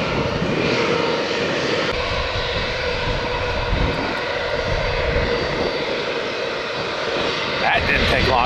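Airliner rolling down a runway at Tampa airport for takeoff, a steady loud engine roar with broadband rush that holds throughout, with a faint voice over it.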